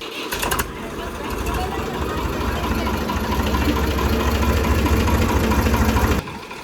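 A tractor engine idles close by with a steady, rough mechanical rumble, running continuously before cutting off abruptly near the end.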